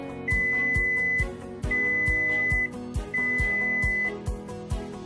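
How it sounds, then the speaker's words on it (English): A coffee maker sounds three sustained electronic beeps, each about a second long, at even intervals over a steady rhythmic background, signaling brewing is done. "When your coffee is ready, you will hear 3 beeps"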